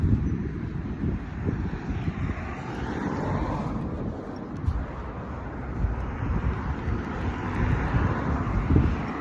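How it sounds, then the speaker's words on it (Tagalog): Strong wind buffeting a microphone beside a highway at night, a loud, rumbling, gusty roar that runs throughout, with passing traffic blending into the low noise and no speech. "Grabe, napakamahangin."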